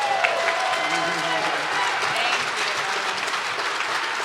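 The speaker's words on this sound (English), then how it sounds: "give yourselves a round of applause" Sustained applause from a crowd, thick and continuous, with faint voices and cheers mixed into the clapping.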